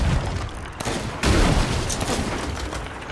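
Cannon fire striking a ship in Sea of Thieves, heavy booming blasts and crashing impacts layered over dense, loud battle noise.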